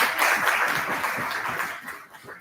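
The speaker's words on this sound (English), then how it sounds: "So one round of applause for Joan also" Applause for an audience member at a talk on green frontiers in rural India, a steady wash of many hands clapping that fades toward the end.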